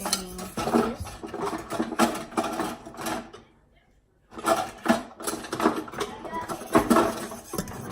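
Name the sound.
stirring cola cake batter in a bowl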